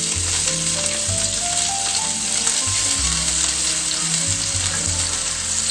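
Onions frying in a hot pan, a loud, steady, close sizzle that runs unbroken throughout with low background hum beneath.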